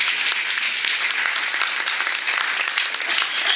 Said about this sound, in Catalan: Sí, podeu aplaudir.